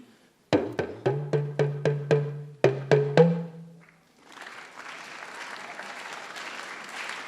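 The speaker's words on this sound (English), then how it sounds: "Just simple clap." Sharp, evenly spaced claps ring out in a rhythmic series with a brief pause, then fade into a softer, scattered wash of audience applause.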